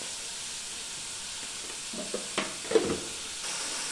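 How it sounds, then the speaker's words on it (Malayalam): Onions fry in a pan with a pinch of salt, a moderate sizzle under several distinct spatula scrapes and taps as they are stirred, close and unaccompanied by speech. "നമുക്ക് നല്ല ഇളക്കി കൊടുക്കാം. ഉള്ളി നമുക്ക് വേഗം വാടാൻ ലേശം ഉപ്പിട്ട് കൊടുക്കാം."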